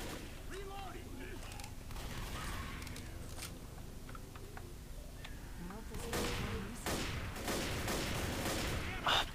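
Rapid bursts of gunfire from the Left 4 Dead video game run throughout, growing denser and louder toward the end, mixed with game noise while players talk over it.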